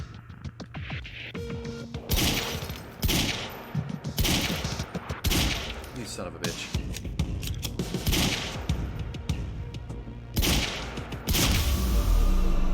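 Rapid bursts of gunfire from the third-person shooter game Quantum Break, loud and repeated throughout, with a man briefly swearing over the shots.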